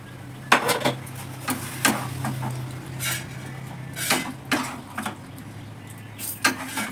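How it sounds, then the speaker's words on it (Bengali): A cucumber is sliced with a knife in a village kitchen: sharp, irregular taps and clacks of the blade on the board, close by and moderately loud, with a low hum underneath. "শশা কাটছে, আমার বৌমা শশা কাটছে।"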